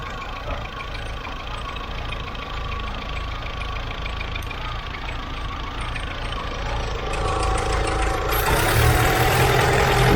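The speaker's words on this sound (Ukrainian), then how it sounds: "Автомобіль вроді заводиться, але все рівно працює дуже погано." A Daewoo Nexia engine runs roughly after a major overhaul, idling unevenly with a low uneven rumble and faint knocking, then growing louder and harsher near the end.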